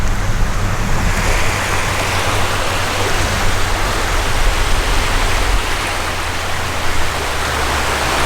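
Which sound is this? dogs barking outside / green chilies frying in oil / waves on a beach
waves on a beach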